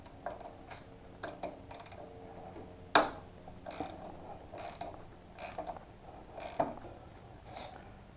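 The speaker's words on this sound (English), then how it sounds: "So you need a 14mm socket. There's 2 bolts that's holding it on right now." A hand ratchet fitted with a 14mm socket works loose the two bolts holding a motorcycle foot peg, giving soft, quick clicking bursts with one sharp metallic clack, close and fairly quiet.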